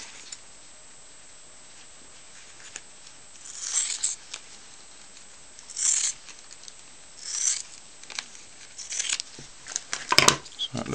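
Thin tyres being cut for model car wheels, with several short, sharp snipping and rasping bursts spread over a quiet background, close and fairly crisp, with no talking.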